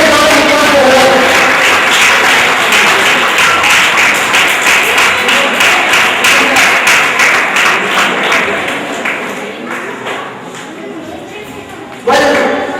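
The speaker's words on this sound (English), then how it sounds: "Arpita, can I have a big round of applause for her?" Audience applause for an award winner at a school awards evening in southern India: dense, loud clapping that thins into scattered claps and fades out near the end.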